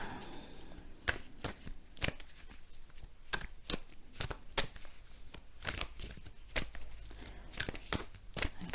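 Tarot cards are shuffled close by, giving repeated crisp riffling snaps and soft flutters in an irregular rhythm, fairly quiet overall.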